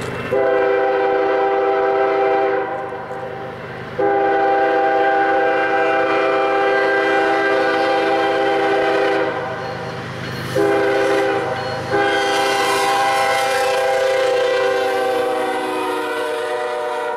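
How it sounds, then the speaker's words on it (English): A Norfolk Southern freight train rumbles past as its loud horn blows in several long blasts with short breaks between them, close and powerful. "the engineer and his conductor have to run around their train so they can return south"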